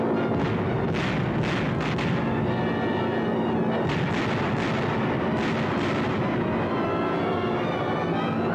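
Bombs dropped from a Consolidated B-24 bomber explode in a dense, continuous rumble of overlapping booms and crackling blasts, some impacts punching out sharper than the rest, with no pause.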